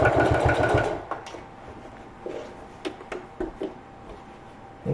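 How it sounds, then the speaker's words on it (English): A sewing machine stitches along the edge of a fabric lunch tote, with a loud steady whir for the first second, then short separate bursts and taps as the fabric is adjusted. "we're going to sew along the edge"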